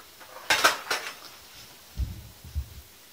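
Raspberry jam with honey stirred in a pot: two sharp metallic scrapes of a spoon against the pot near the start, then a few soft, low thuds. The sounds are close and short, with quiet gaps between them.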